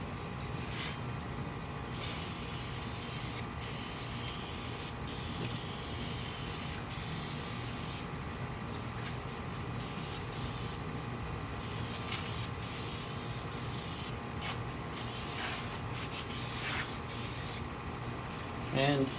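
A spray can hisses out a protective finish coat onto a wooden drawer in repeated bursts of varying length, close and steady, with short pauses between passes.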